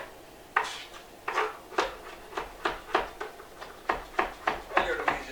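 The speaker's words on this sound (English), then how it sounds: "Chopping it, right? Chopping spinach." A knife chops spinach on a cutting board in about a dozen sharp, fairly regular knocks, close and clear with no talk over them.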